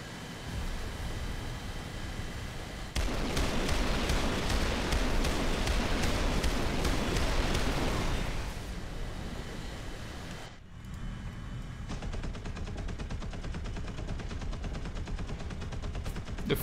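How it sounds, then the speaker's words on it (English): Main cannons firing in a video game, a loud sustained roar of rapid heavy shots that cuts in suddenly, drops out briefly, then resumes as a steady pounding stream. "They're firing the main cannons at me."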